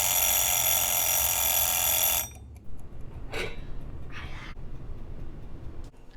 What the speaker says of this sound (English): our timer went off now